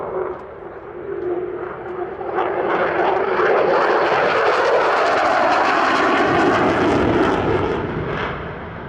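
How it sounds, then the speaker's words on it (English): F-35 fighter jet flying a minimum radius turn at the Australian International Airshow, a powerful jet roar building over a few seconds into a sustained loud rushing blast before easing slightly, no voices. "Here is the F-35, launching into a minimum radius turn of its own."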